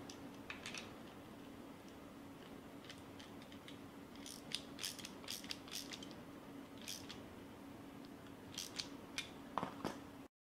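A wrench tightens a nut on a PVC mannequin frame joint, producing faint, close ratcheting clicks in irregular clusters over a steady low hum throughout.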